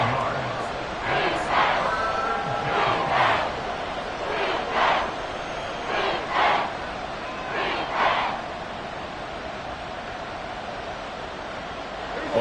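A football stadium crowd chants and roars rhythmically during a Cowboys versus Texans game. Loud repeated crowd chants rise over a constant wash of crowd noise in a big open venue.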